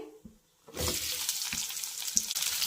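Chopped onion dropped into hot oil with cumin, a sudden loud hiss of sizzling that holds steady, with a few soft spoon knocks at the start and during the frying.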